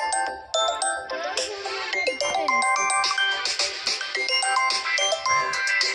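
A mobile phone plays a bright melodic ringtone that chimes in repeating tonal phrases, loud and close, running continuously with only faint background sounds beneath.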